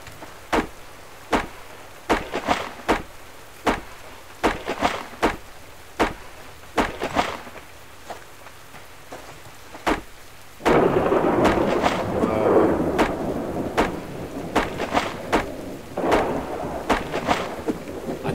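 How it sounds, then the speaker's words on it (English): Rain falls during a thunderstorm in the video game Subsistence, with sharp repeated cracks throughout. A heavier downpour surges in about halfway through and stays loud and steady to the end. "It's raining again, look."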